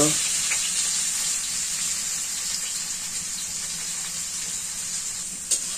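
Chopped onion sizzles in hot oil in a kadai during village-style chicken biryani cooking indoors, a steady, close frying hiss that continues throughout with a faint clink near the end.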